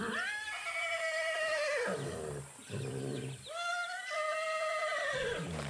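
A horse in the video game Far Cry 6 whinnies loudly while a dog attacks it, two long shrill neighs that rise and then fall away, close and clear with a short gap between them.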